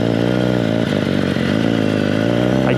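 A motorcycle engine runs loud and close during a ride through busy city streets, a steady rumbling drone with a brief dip in revs partway through.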